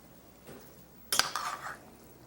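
Steak etouffee with mushrooms stirred in a pot: after a faint early scrape, a short burst of spoon clatter and scraping against the pot rings out close, then fades into a low hiss.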